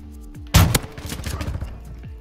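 A Bryson 800 shotgun in a video game fires one loud, close blast that dies away into echoing rumble and smaller crackling hits.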